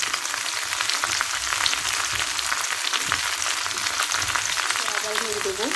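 Ground mustard paste added to hot oil in a pan for mango pickle, sizzling and frying with a loud, steady crackling hiss and occasional stirring scrapes.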